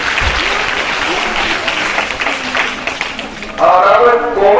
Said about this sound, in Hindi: तालियां नैन्सी के लिए